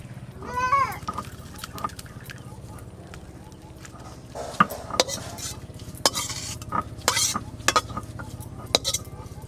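Food stirred and scraped in a pan in a village kitchen, with clinks of a utensil against metal, soft sizzling and scattered taps, while voices talk in the background.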